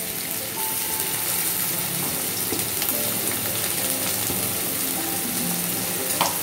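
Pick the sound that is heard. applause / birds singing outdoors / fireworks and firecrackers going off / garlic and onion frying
garlic and onion frying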